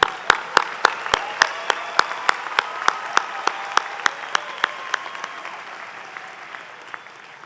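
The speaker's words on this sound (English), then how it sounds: "Let's have a big round of applause for the graduates of 2015." Sharp, rhythmic claps ring out for graduates at a university commencement ceremony, steady and evenly spaced, then thin out toward the end.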